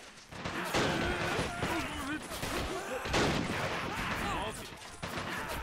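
Gunfire in the war strategy game Men of War: Assault Squad 2: repeated bursts of shots and explosive cracks across the battlefield, steady and dense throughout, with someone talking over them.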